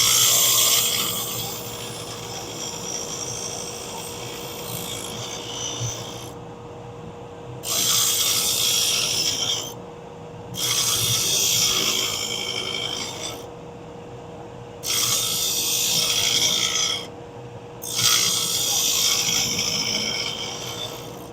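A saw chain being sharpened with a hand file, giving loud rasping strokes in several bursts separated by short pauses, close up with no talking.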